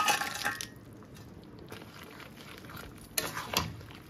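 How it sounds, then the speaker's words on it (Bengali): Vegetables including eggplant, yardlong beans, bitter gourd and drumstick stirred in a pan with lentil dumplings for shukto, giving quiet sizzling and a few sharp scraping clinks of a spatula. "বাকি সবজির সাথে এই ভেজে রাখা সবজিগুলোকে মিশিয়ে দেব।"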